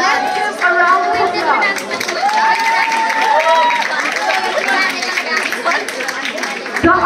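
An audience at a swimming gala's synchronised swimming display cheers and claps, with excited shouting voices over a continuous crowd din that stays loud for several seconds.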